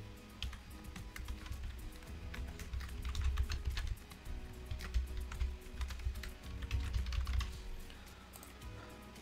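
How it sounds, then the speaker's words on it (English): An email is typed on a computer keyboard in a run of quick, close key clicks that come in bursts with brief pauses, recorded quietly with no talk. "So I just typed a mail"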